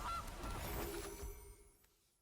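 A goose honk sound effect from the Magic: The Gathering digital card game, a loud nasal call at the start that fades out over about two seconds, with no talking.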